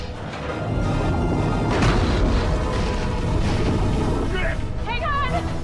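A torpedo launched and detonating underwater in a shark movie, a deep rumbling boom and swelling roar that holds steady, followed by high whining tones near the end.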